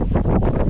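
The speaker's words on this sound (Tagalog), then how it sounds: "lakas ng hangin" Strong wind buffets the microphone in a brief, loud, low rumbling gust with uneven surges, recorded outdoors near a house.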